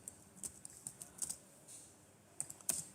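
Typing on a computer keyboard: quiet, close clicking keystrokes in irregular bursts, with a short pause midway before a few more taps.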